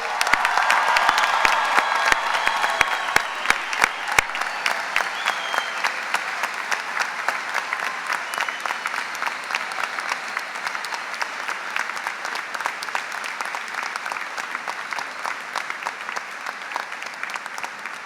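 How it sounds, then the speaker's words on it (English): Sustained applause from a large audience at a 2016 university undergraduate graduation ceremony, fuller at first and then settling into a steady, dense patter of many hands in a big hall, with no speech. "And let's give them a round of applause."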